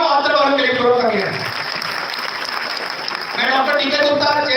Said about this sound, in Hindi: तुम सब जो बाहर लोग बैठे हैं उन सब के लिए जोरदार तालियां और अंदर वालों के लिए जोरदार तालियां।